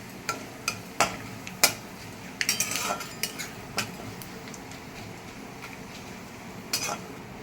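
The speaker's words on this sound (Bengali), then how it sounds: "গোটা জিরে ফোড়ন আমি এখানে 1 চামচ মতো নিলাম, নিয়ে হালকা করে একটু ভেজে নিলাম" Whole cumin seeds fry in a pan under a soft sizzle, punctuated by a series of sharp metal spoon clinks and scrapes against the pan, irregular and close, without speech.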